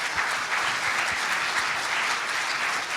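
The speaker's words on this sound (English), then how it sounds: "A round of applause for Dr. Shahril." A conference audience applauds Dr. Shahril at the close of a Q&A session, a dense, steady wash of many hands clapping throughout, with no voices standing out.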